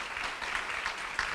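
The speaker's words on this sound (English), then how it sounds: "Please, another round of applause." Brief, faint applause from an audience at a fair housing conference, steady soft clapping for a guest presenter lasting just over a second.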